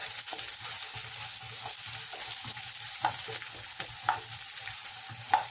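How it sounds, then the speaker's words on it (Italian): Onion fries in a hot pan with a steady, close sizzle, broken by rhythmic stirring scrapes and a few sharper clicks of the utensil against the pan; no voices. "Ora accendo il fuoco e parto per friggere innanzitutto la cipolla"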